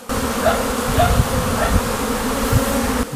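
Honey bees buzz at a hive entrance in early spring after winter, a steady dense drone of many insects close by with no voices.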